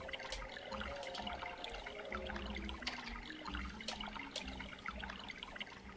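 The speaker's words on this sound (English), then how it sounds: "Yeah, I hear water." Faint flowing water in the Kemco video game Shadowgate 64, a soft steady trickle and splashing ambience that stays quiet and even throughout, with no voices.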